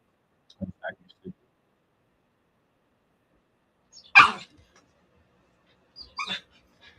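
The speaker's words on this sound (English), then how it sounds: "my dog's begging me for attention" A pet dog barks and whimpers for attention in a short burst of sharp calls, fairly close, with quiet gaps in between and a little talking earlier on.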